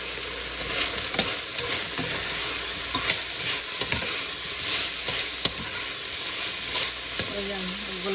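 Pork and plenty of sliced onions fry in a pan with a constant loud sizzle, broken by the scrape and clack of a spatula stirring at irregular intervals.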